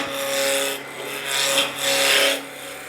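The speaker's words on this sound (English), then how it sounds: "So I typically take it down with the Spindle roughing gouge" A spindle roughing gouge cuts spinning wood on a lathe with a steady, loud rasping hiss that swells and fades in three passes, close and with no talking.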